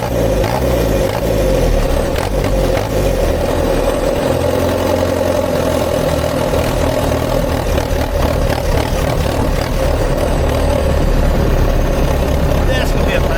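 A diesel-swapped Jeep Wrangler YJ on the move, its engine a steady low rumble throughout, with road and drivetrain noise and a voice talking over it.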